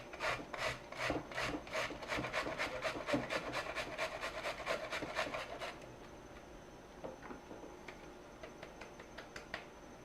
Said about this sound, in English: we're going to grate this cauliflower down.